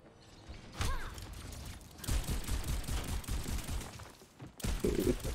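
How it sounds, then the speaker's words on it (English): Rapid bursts of gunfire in the online shooter Overwatch 2 during a team fight, dense and continuous with sharp cracks and brief gaps, loud and close. "It's only us two shooting him, man."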